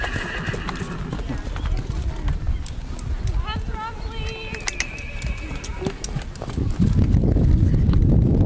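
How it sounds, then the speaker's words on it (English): Horse trotting in a showing class at an arena, its hoofbeats clip-clopping steadily alongside a neigh, with people talking nearby and background noise swelling toward the end. "Oh, big trot, George."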